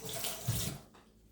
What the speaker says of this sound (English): So I'm gonna rinse my knife and wipe it really quick.